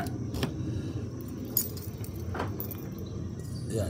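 A manual car key jangles close by while unlocking a 2021 Mitsubishi Xpander GLS with keyless entry, giving a few brief metallic clinks over a low, steady outdoor rumble.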